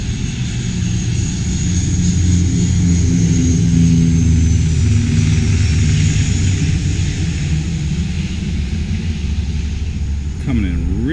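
A propeller airplane passes overhead in a loud, sustained flyby, its droning engine rising and falling in pitch as it goes by, with a voice speaking briefly under the noise.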